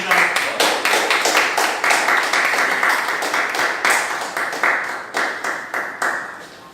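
Clapping from a small audience at a Table Topics speaking session, loose and uneven with distinct individual claps audible within the group, tapering slightly toward the end.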